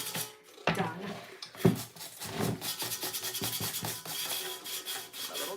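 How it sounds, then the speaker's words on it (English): 220-grit sandpaper rubs back and forth over painted furniture in a steady, close, fairly loud scratchy rhythm, with a few harder strokes near the start and no talk. "So we're both using 220 sandpaper."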